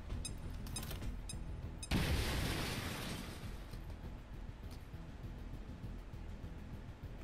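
Frag grenade exploding in the video game XCOM Chimera Squad, a single loud boom that rumbles and slowly decays into background game noise after some faint clicks.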